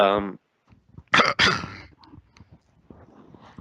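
A voice clears its throat and coughs a couple of times up close, with some breathy vocal noise and shuffling afterward.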